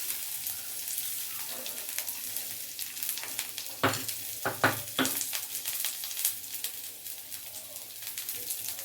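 Crushed garlic hits hot oil in a pan for a carrot chutney, giving a steady close sizzle with a few louder bursts of spattering in the middle and a light stir, with no voices.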